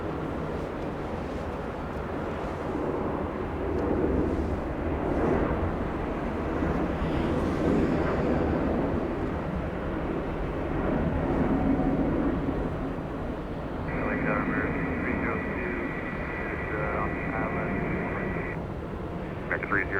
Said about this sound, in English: Landing live on LA flights with Peter and Joshua.